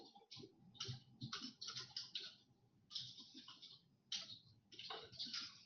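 Keys on a computer keyboard click in quick, irregular bursts, faint and close, like someone typing at a desk.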